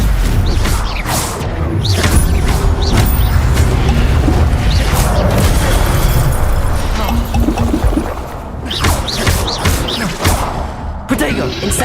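Spell-casting effects in Hogwarts Legacy, a dense run of whooshing magic bursts with booms, thumps and crashes that continues loudly and almost without pause, with voices speaking over the combat.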